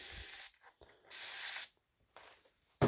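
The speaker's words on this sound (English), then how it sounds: "I will spray a little bit of distilled water on a makeup pad" Distilled water is sprayed onto a makeup pad from a spray bottle in three short, close hissing bursts separated by brief quiet gaps, followed by a soft tap.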